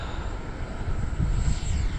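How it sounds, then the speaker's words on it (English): A FlyFans K-8 Red Falcon RC jet takes off down a runway on a windy day, its engine a steady whirring roar that swells louder partway through. No voices are heard. "You got to use the majority of the runway to take off with a jet."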